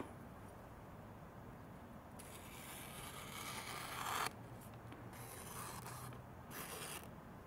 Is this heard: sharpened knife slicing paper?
yes